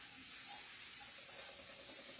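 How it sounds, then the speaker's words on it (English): Stuffed portobello mushrooms with garlic sizzle gently in a pan that was not preheated, a faint, steady hiss with no voices. "It's starting to sizzle now."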